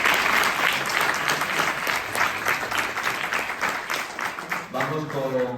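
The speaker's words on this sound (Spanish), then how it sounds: "Un aplauso fuerte para David." Audience applause at a school or training-center event in Spain, a loud burst of clapping that thins out toward the end while a voice is heard briefly over it.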